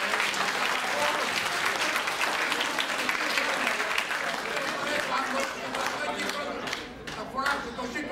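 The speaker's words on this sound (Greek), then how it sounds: "Ένα χειροκρότημα λοιπόν για τον Λεωνίδα Παυλόη." A gathered audience claps for an honoured guest at a community event, dense continuous applause close by that thins and fades toward the end, with a few voices mixed in.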